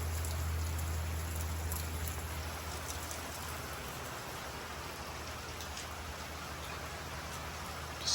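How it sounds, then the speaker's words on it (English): Heavy rain falls steadily on a farm, a dense hiss of drops on surfaces that stays constant and fairly quiet throughout, with a low hum underneath and no voices. "Looks like they're getting a good bit of rain there."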